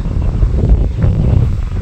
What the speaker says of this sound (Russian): Да, ветер сильный сейчас, самое то запускать